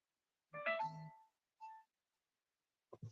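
Mobile phone alert tones go off indoors during a live chat: a bright multi-tone chime lasting about half a second, a shorter single beep a moment later, then a brief low burst at the end, with no talking.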